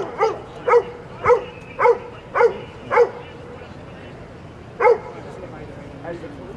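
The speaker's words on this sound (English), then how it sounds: "Dogs have marched up and down, checking the parked vehicles here on 58th Street" Police dogs checking parked vehicles on 58th Street in Manhattan bark in a sharp run of about six evenly spaced barks, then a pause and a single later bark, with voices faint in the background.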